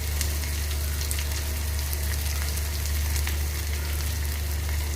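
Onion frying in hot oil, a dense, steady, loud sizzle with faint crackles, continuing without pause.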